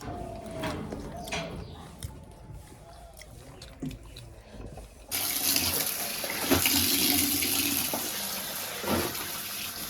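Clothes soak for washing in a home as quiet background clinks give way to a strong gush of running tap water that pours loudly and continuously for the second half.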